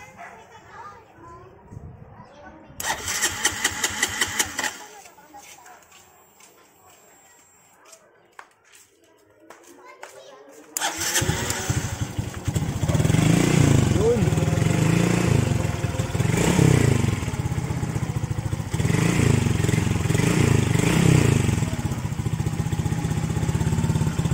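A Raider J 115 FI motorcycle under restoration is cranked in a few short attempts before its engine catches and runs with a steady, close, rattly idle. People talk over it.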